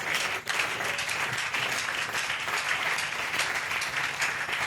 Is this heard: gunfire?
no